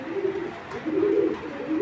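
Racing pigeons coo in low, throaty, wavering phrases, close and fairly clear, a few overlapping calls filling a short moment with no talking.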